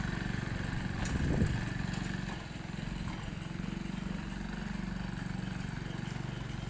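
A TVS XL 100 moped towing a trailer chugs along a bumpy road, its small engine puttering steadily at close range with a brief louder rattle near the start.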